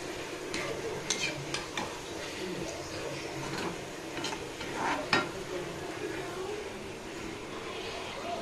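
Palm fritters fry in a pan with a soft, steady sizzle while a spatula slowly stirs them, giving scattered light clicks and scrapes at an irregular pace.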